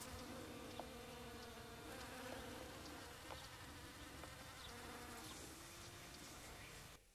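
Domesticated honey bees hum in a continuous, faint, wavering buzz, with several insects overlapping close by, and no voices.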